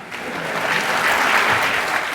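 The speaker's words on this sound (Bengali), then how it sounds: "সেই জন্য লোকেরা হাততালি দিচ্ছে বসে" Audience at a televised courtroom-style interview show breaks into sustained clapping, a dense steady applause that swells slightly and holds without any voices over it.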